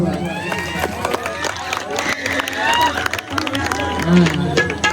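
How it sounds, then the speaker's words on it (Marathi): An audience clapping along to a devotional song, dense rapid hand claps mixed with crowd noise, heard beneath singing and voices. "कोणाकोणाला गाणं आवडतं त्यांनी कृपया टाळ्या वाजवा"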